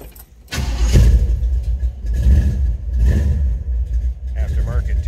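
A 1968 Chevrolet Chevelle with a 402 engine cranks and fires after a short pause, then rumbles loudly with a few throttle blips and revs, the deep exhaust note rising and settling close by.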